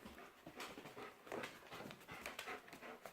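A nursing mother dog pants quietly and steadily while her puppies feed, with soft breathy rhythmic puffs and faint rustling close by.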